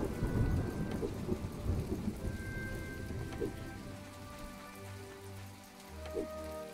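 Thunderstorm in the video game My Time at Portia: steady rain pattering over rumbling thunder that swells and fades, with a few soft tonal game sounds drifting in and out, fairly quiet throughout and no voices.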